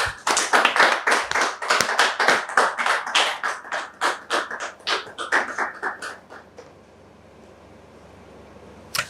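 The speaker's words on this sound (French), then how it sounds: "sous vos applaudissements" A studio audience on a French-language talk show claps loudly and briskly for several seconds, the applause thinning into scattered claps before a stray clap at the end.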